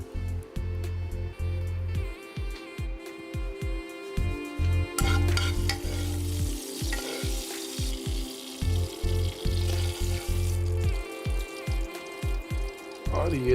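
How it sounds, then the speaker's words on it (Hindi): Red chili hits hot oil for a yogurt tadka after the induction cooktop is switched off, sizzling loudly in bursts with stirring scrapes and pops, close and continuous. "इसमें डालते हैं थोड़ी सी लाल मिर्च फॉर रंग।"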